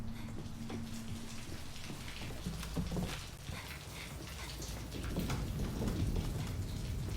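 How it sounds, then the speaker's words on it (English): Steady rain falls outdoors on a wet road, a continuous broadband hiss that runs the whole time, with a low engine-like rumble from dirt bikes riding past underneath and no voices. "It's still raining out there."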